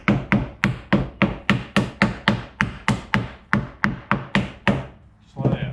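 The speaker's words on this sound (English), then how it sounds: "let me grab a hammer and knock them down." A hammer drives nails into a wooden catfish noodling box, about fourteen sharp, evenly spaced knocks struck close by, then a brief pause and a duller bump at the end.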